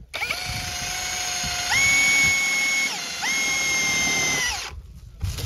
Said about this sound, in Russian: Вот шуруповерт пригодился